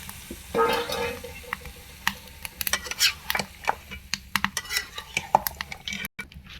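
Ingredients for a meat, dal and rice khichuri fry in a pot while a metal spoon stirs, giving repeated scraping clinks over a low sizzle, with a brief voice.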